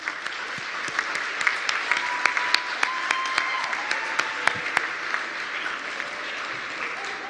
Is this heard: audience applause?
yes